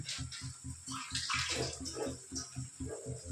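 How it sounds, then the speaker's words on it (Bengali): Water is poured into rice flour while cooking a leafy greens dish, giving a soft, continuous close-up splashing trickle over a low rhythmic thumping. "চালের গুঁড়ো দিয়ে দিলাম, একটু জল দিয়ে দিলাম যাতে চালের গুঁড়োটা মেশাতে অসুবিধা না হয়।"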